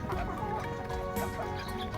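Chickens cluck repeatedly nearby over a busy, noisy background.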